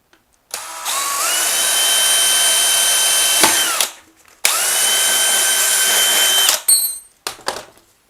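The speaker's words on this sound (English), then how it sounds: "now all I need to do is drill these out with a 5/16 drill bit" A power drill with a 5/16 bit bores bolt holes while a shower drain is being replaced. The motor whines up in two sustained runs of about three seconds each, loud and close, followed by short clunks.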